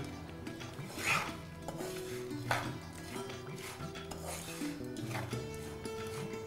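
A spoon stirs garam masala into a mixture in a pan, making a few soft scraping strokes, low and close beneath steady background music, with no talking.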